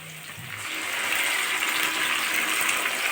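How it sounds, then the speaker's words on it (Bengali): Grated onion stalks pour into a pan of reddish-fried onions, setting off a broad, steady sizzling rush that swells after the first second and holds loud and close with no talking. "এখন আমি গ্রেড করে রাখা পেঁয়াজকলিগুলো ঢেলে দিচ্ছি পেঁয়াজের ভিতরে"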